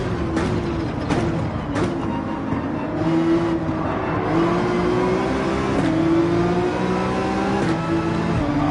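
Race car engine in Gran Turismo 7 on the Sardegna circuit, revving and climbing through the gears with a steady whine, loud and close, broken by short gear-shift dips.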